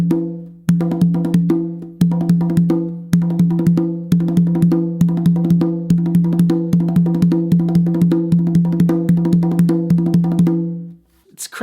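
Hand drum played fast with the dominant hand adding bouncing doubles, a dense, steady run of sharp, resonant strikes with a deep tonal ring, close and loud, stopping abruptly near the end with no talking.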